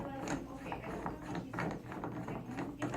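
Small mechanical clicks and ratcheting scrapes as a glass tube is fitted and screwed onto a vape tank, close and fairly steady over about three seconds, with a faint voice at times.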